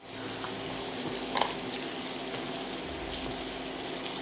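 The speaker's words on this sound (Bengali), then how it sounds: "তারপর দেব টমেটো, তারপর দেব ধনে পাতা, এগুলোকে ভালোভাবে নেড়ে নিব।" Tomato and coriander leaves stirred and frying with greens in a pan: a steady, close sizzle with a faint scraping stir, no voices.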